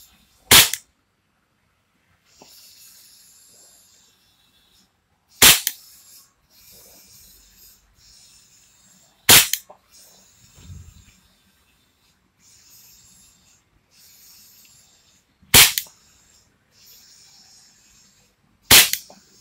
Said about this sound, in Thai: ยิงสนุกเลยครับมันไม่ค่อยแรงมากอ่ะไม่แรงมากดีแล้วเพราะมันจะยิงในห้อง